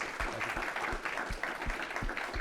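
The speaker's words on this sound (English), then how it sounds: "Please give our speakers a round of applause." Moderate applause from an audience at the close of an evening panel event on the transatlantic community, with a steady patter of claps and a few sharper individual hand claps standing out.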